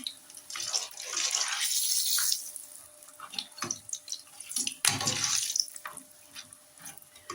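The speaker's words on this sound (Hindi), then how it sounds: "अब इसी तरह सारे पापड़ी को फ्राई करूँगी।" Papdi strips fry in hot oil, sending up close, hissing sizzle that swells and crackles in bursts, with no one talking.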